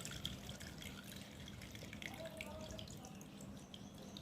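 Prawns being washed in water in a home kitchen sink, with soft splashing, trickling and faint drips of water, quiet and close, continuing steadily throughout.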